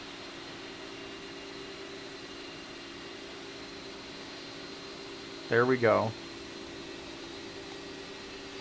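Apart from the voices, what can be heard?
jet engine inside the plane in Microsoft Flight Simulator 2024 video game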